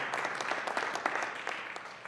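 Audience applause at a conference closing session, a steady broadband patter of many hands clapping at moderate distance, with scattered sharper claps standing out and no talking over it.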